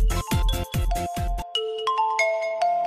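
A name ringtone for a phone plays loudly and alone: a few punchy percussive hits, then a bright run of chiming electronic tones.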